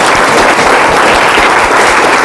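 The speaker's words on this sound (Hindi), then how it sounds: "उनके सम्मान में जोरदार ताली कर" A large audience at a business event applauds loudly to honour people on stage, a dense, continuous roar of clapping close and full, without pause.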